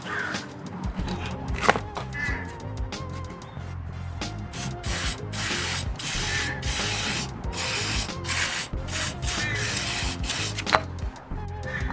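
Lubricant sprayed from an aerosol can onto a motorcycle chain in loud, hissing bursts of varying length, several in quick succession, close to the microphone, with no talking.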